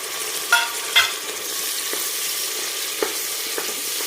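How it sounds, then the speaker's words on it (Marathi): Pieces of mutton fat fry in hot oil for a village-style black mutton curry, giving a steady close sizzle with a few sharper stirring clacks against the pan and no talking. "आपण चरबीचे जे पीस होते ते टाकून घेऊ याच्यामध्ये चरबी तळून घेणार आहे या तेलामध्ये"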